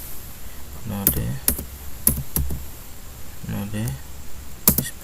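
Several clicking keystrokes on a computer keyboard, scattered and uneven, close and moderately loud over a low background hum while someone types a command.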